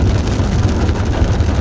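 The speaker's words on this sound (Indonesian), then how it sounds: "Di luar hujan loh teman-teman." Heavy rain pelting a car parked inside a dim car park near the exit, a steady dense patter and rumble drumming on the roof and surroundings throughout, close and loud with no talk.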